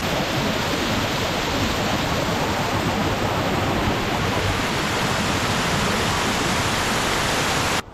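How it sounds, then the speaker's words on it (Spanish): Waterfalls pouring down from above at the Acequias de Lanjarón irrigation channels in the Spanish mountains, a loud, dense, unbroken rushing roar of falling water filling the whole clip. "os tengo que mostrar estas impresionantes caídas de agua que vienen desde arriba"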